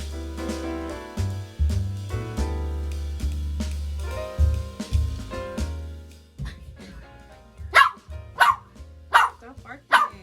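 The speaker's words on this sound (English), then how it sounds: "Stop barking." A dog barks several sharp, loud times near the end, after a stretch of talking and voices close by at the start.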